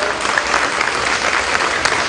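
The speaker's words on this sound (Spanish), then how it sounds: "para quien yo pido un especial aplauso" A crowd at a civic event in Peru applauds a women producers' network of San Juan de Lurigancho, a brief, dense burst of clapping with a murmur of voices underneath.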